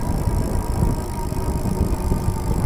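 Super73 S2 e-bike coasting with no pedaling or throttle, its rear hub giving off a continuous low rattling, rumbling noise with road hum, steady and fairly close.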